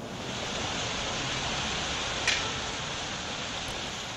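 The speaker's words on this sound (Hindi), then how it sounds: "पूरा पुल है और पुल के ऊपर से पानी बह रहा है।" Flood water from torrential rain in Madhya Pradesh pours over a bridge, a steady, even rushing roar heard from a distance with no voices and one brief faint tick partway through.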